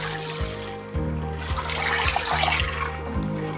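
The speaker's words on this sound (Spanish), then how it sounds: "Entonces volveríamos a regar fuerte." Water pours and trickles onto potted plants during a heavy watering, splashing steadily over a faint, regularly repeating hum in the background.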